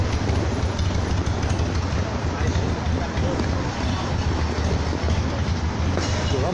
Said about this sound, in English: Oh man, it's a subway everywhere too.